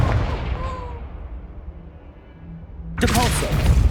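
A Confringo fire spell bursts in Hogwarts Legacy, a loud, sudden broadband blast that hits near the end, rising out of a quieter bed of game ambience and a low hum.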